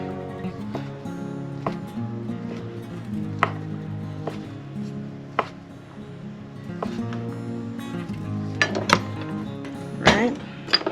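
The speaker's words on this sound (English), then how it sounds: "with my larger knife. Like that. And then just into little cubes." Large kitchen knife dicing food into small cubes on a cutting board, a steady series of sharp close knocks with a few louder clicks near the end, over a low hum.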